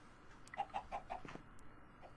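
A chicken in the video game Chaosville clucks in a quick run of about five short, clipped notes, then one softer cluck, faint and close, with no talk over it.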